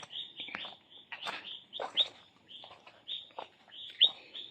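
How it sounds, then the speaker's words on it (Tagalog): Crickets chirp in the dark at one in the morning near a house in Daet, making a steady high trill in repeated bursts, fairly faint, with occasional soft rustles and knocks between the phrases. "May kuliglig."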